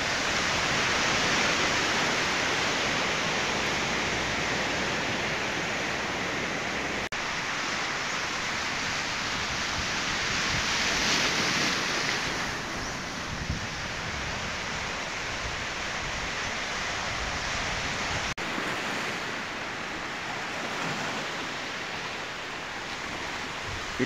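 A steady, wide roar of rough ocean surf at Mati, Davao Oriental fills the scene, with waves swelling and washing continuously and no voices.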